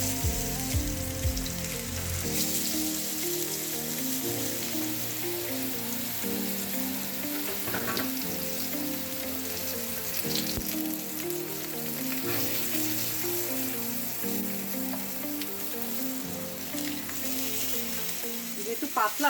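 Thin pieces coated in turmeric and salt fry in hot oil with a steady, dense sizzle and occasional stirring scrapes, close and loud with no talking.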